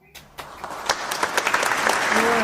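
Students in a classroom during a microteaching lesson break into clapping that swells from a few scattered claps into steady, moderately loud group applause, with a voice briefly heard near the end.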